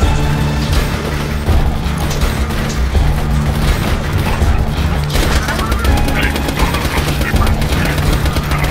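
Rapid gunfire from a small gun in Borderlands 2, a dense continuous stream of shots with booming impacts and crashes throughout, loud and close.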